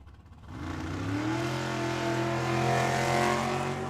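A left-steer roadster drag racing car launches and runs down the strip at a dragway, its engine note rising in pitch as it accelerates, steady and fairly distant with no talk over it.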